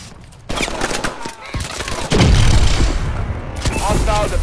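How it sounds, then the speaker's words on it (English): Missile strikes and gunfire erupt in the video game Call of Duty Advanced Warfare: a loud rumbling barrage of blasts and rapid shots that swells midway and keeps roaring, with a voice briefly heard over it. "Friendly missile strikes incoming."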